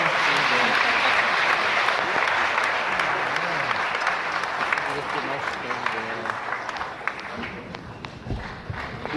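Audience applause at the Cannes Film Festival Un Certain Regard awards ceremony, broad sustained clapping from a large crowd that slowly thins toward the end, with voices faintly underneath.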